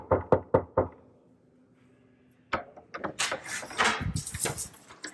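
Four sharp, close knocks rap on a door in a new house, then a single thump; after a quiet pause comes a stretch of scuffling and clattering movement.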